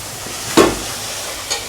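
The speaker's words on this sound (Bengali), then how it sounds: "এবার এইটা ভালো করে একটু জল দিয়ে সামান্য কষাতে থাকবো।" Spice paste for sardine gravy sautés in a pan with a splash of water, giving a sudden loud hiss and sizzle that fades, then a smaller second burst, close up with no talk.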